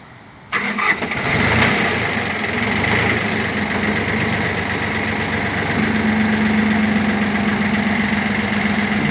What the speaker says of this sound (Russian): Двигатель работает ровно.